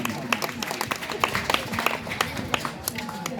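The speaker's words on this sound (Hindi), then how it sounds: "तालियां बजाइए भाई।" At a school magic show, a small group claps in scattered, uneven bursts, the claps sharp and close, with some talking mixed in.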